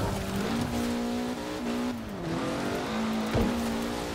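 A car's engine drones steadily and revs in rising and falling glides as it climbs a harsh mountain road in Forza Horizon 4, loud and close, with a brief tyre scrape near the end.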